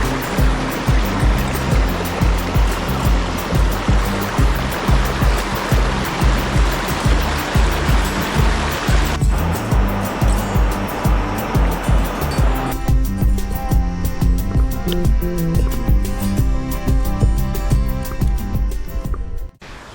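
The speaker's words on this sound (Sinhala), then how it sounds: "ඔන්න අපි දැන් දියැල්ල ගාවට ඇවිල්ලා තියෙන්නේ." Kumari Falls, a waterfall near Avissawella in Sri Lanka, gives a loud, continuous roar of crashing water heard up close for the whole stretch, dense and unbroken with no talking.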